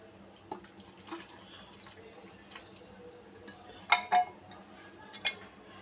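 Beef and bottle gourd are poured from a pressure cooker into a pot, with a wet sloshing pour, a few metal clanks of cookware and scattered knocks, fairly quiet and close.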